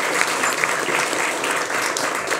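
A studio audience applauds a guest with dense, steady clapping that holds at an even, fairly loud level throughout, with no voices over it.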